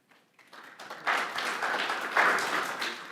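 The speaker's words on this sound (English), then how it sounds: "Please hold the applause." Scattered clapping at a city council meeting that swells into steady applause from a modest crowd, moderately distant and fairly soft.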